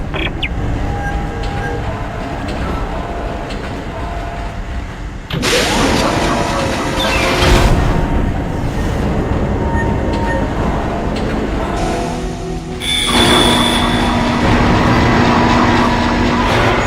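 A tram car rolls along its track in the sci-fi horror game Dead Space, a loud continuous rumbling and clattering of rail wheels with metallic squeals and hissing surges, no voices heard.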